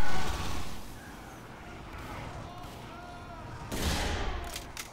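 Gunfire in the video game Team Fortress 2 comes as a burst of rapid shots at the start, then scattered game sounds and a second loud blast near the end, fairly quiet overall.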